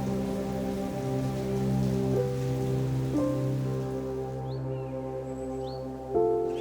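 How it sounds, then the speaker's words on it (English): Steady rain pours off the extensive roofs of a plantation retreat in India and is channelled into filling urn basins, heard as a dense, constant rush of water under a droning hum, with faint bird chirps toward the end. "The rain changes channel the water down and the urn basins fill up."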